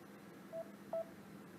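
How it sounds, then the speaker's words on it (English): Two short electronic notification tones from a phone, each a brief steady beep about half a second apart, moderately clear over a quiet background hum. "Notifications going off every, like, 10 seconds."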